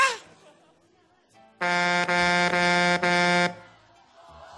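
A vehicle air horn blasts loud and close in one sustained tone of about two seconds, broken by three brief dips, with people talking before and after it.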